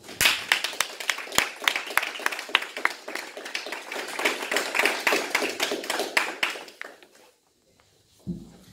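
A congregation at a Sunday worship service claps in dense, fast applause that carries for about seven seconds, then stops abruptly, leaving a short quiet gap before a low sound at the end.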